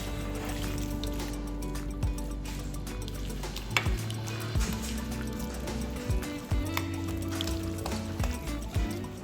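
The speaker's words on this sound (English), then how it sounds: "adding water twice, mixing well with your hands after each splash" Water splashed onto raw chicken pieces for a mushroom and chicken stir fry and worked in by hand, close wet squelching and soft liquid dribbles with a low background hum.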